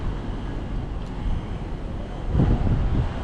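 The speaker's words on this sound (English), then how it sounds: "it's a bit windy out here" Wind buffets the microphone on an open balcony at the stern of the MSC Meraviglia cruise ship, a steady rumbling roar that swells briefly louder near the end, with no talk.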